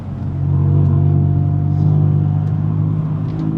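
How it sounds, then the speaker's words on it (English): A 600 hp BMW M4 accelerates with a deep, steady engine drone heard from inside the car, holding a strong low rumble that swells slightly and then settles. "I barely touch the accelerator and it just goes"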